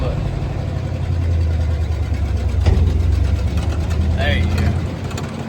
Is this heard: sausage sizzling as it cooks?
no